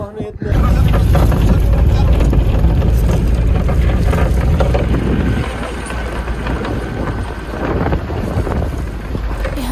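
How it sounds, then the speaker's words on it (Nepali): Loud, continuous wind buffeting the microphone in the Dhorpatan hills, a heavy low rumble that eases slightly partway through, with a voice faintly present underneath. "चाहिँ लास्टै हावा लाग्ने रहेछ साथीहरू"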